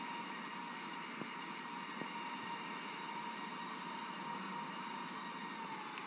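An aircraft taxis toward the runway in the Infinite Flight game, giving a steady engine drone with a constant whine, faint and unbroken, with a couple of tiny clicks.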